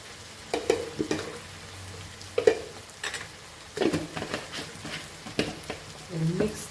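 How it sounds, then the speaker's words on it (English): Spoon stirring kitchen king masala and Kashmiri chili powder into a potato and cauliflower curry in a pan, a few soft scraping strokes with faint sizzling, close and moderately quiet, no talking. "We'll mix this and let this get cooked with the masala."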